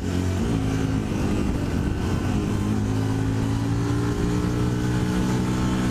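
Yamaha WR125R motorcycle ridden at full throttle along a straight country road, a loud steady engine drone held at constant high revs throughout, close and continuous with no talking.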